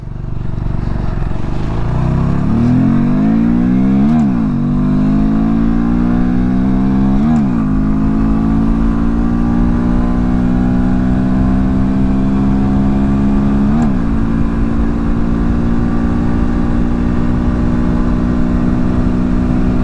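A Honda Grom motorcycle with an air box snorkel mod revs up hard and pulls away, pitch climbing through several gear shifts, loud and close with a steady roar throughout.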